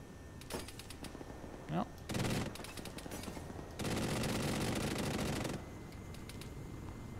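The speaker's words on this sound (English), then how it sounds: "Well, I shot somebody." Gunfire in Arma 3 from a helicopter, heard as a short rattle and then two longer sustained bursts of rapid automatic fire, fairly faint with a brief voice in between.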